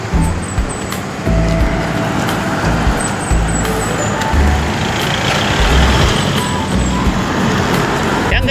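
Dense roadside traffic in Potrero, trucks and cars rumbling past close by in a loud continuous wash with occasional brake hiss and squeals, brief voice near the start.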